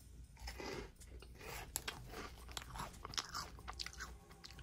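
Close crunching bites and chewing of a hand-shaped Halloween snack, irregular crisp cracks and mastication repeated over several seconds, quiet and with no speech.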